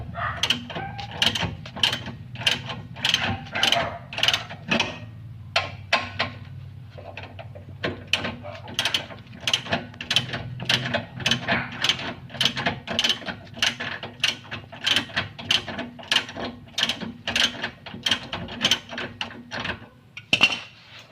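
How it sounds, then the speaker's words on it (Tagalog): A 17mm socket wrench ratcheting loose a bolt underneath a Toyota Vios during a rear shock replacement, a long run of evenly spaced sharp clicks, close and fairly loud, with a brief pause partway through. "gamit ang 17mm na socket wrench o no, tatanggalin natin to"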